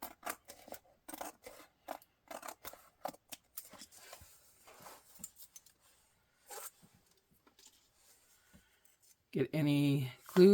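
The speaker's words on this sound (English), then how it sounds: "You can also use the scissors, which I think is what I'm going to have to do here." Scissors snip through paper while someone crafts an altered notebook, a rapid series of sharp, close cuts that slow and thin out, followed by a short burst of voice at the end.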